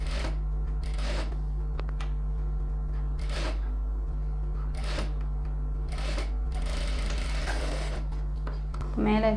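A sewing machine stitches fabric for a Tamil pattu pavadai in short, repeated mechanical runs over a steady low hum, separated by brief pauses.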